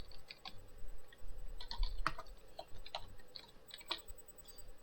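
Fast, uneven bursts of typing on a computer keyboard, close keystrokes and clicks clustered in quick runs with short pauses between them.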